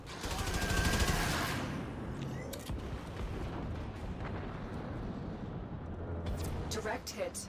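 Ship cannon fire in a video game, heard as a long, loud roaring blast with rumbling debris and crackling bursts that trail off into sharp impacts near the end.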